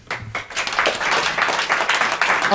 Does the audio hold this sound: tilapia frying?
no